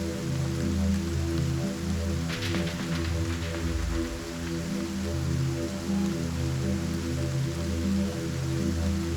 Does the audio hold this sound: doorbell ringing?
no